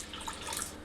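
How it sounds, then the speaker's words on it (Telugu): Water is poured into a cooking pot while making buttermilk rasam in a home kitchen, a short, steady, soft splashing stream with no talking. "ఇట్లా అయిన తర్వాత ఇంకొంచెం వాటర్ వేసుకుందాం."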